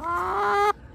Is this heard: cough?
no